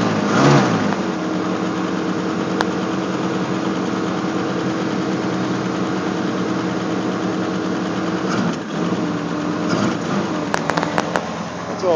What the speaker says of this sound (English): I won't go off cold idle because I rebuilt the carburetor.